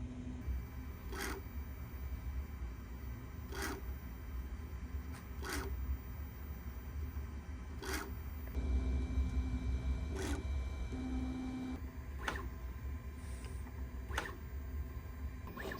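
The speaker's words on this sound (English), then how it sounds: "This calibration process is very interesting. It's doing motor noise cancellation testing." A Bambu A1 Mini 3D printer runs its motor calibration test, sounding faint, repeated short buzzing bursts every couple of seconds over a quiet low hum, with a brief steady tone partway through.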